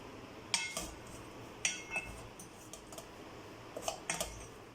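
Quiet, sparse clinks and taps of metal utensils come from stirring variety rice dishes such as ghee rice, coconut rice and curd rice, with coriander leaves mixed in, against a soft room hush.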